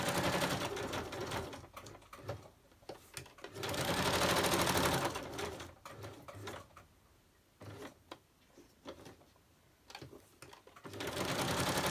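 Sewing machine stitching around fabric scraps, bursts of fast mechanical whirring that start and stop with short pauses and faint rustling between, close by and fairly loud.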